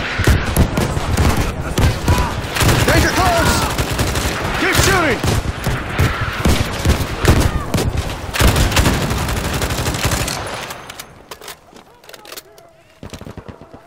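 Dense, loud gunfire from a Battlefield 5 Pacific front milsim battle, overlapping rifle and automatic shots with booming impacts, mixed with shouting voices, before thinning to sparse shots near the end.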